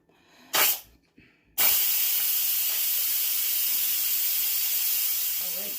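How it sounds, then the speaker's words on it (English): Steam vents from an Instant Pot pressure cooker after cooking rice: a short loud hiss burst, a pause, then a strong continuous broadband hiss that holds steady for several seconds and tapers slightly. "I'm just going to release this steam"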